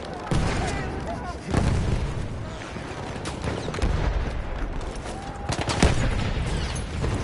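A grenade explodes amid a Battlefield 1 firefight: heavy booms land over rattling gunfire and battlefield noise, with voices in the mix.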